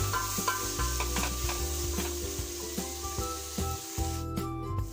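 Onions seasoned with salt and turmeric fry in a pan with a soft, continuous sizzle, while a spoon stirs and scrapes against the metal in repeated sharp clinks.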